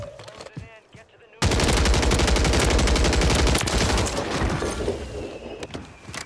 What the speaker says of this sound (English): I hear a lot of shots up there.